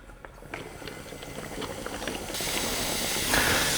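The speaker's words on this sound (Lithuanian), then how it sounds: "dabar jau įsikišame šlangutę į mūsų butelį ir atsisukam angliarūgštę, taip leisdami vandeniui ją prisisotinti" CO2 welding gas hisses through a hose into a water bottle, starting as a quiet bubbling fizz with small pops and swelling into a louder, steady rush halfway through, with no voices.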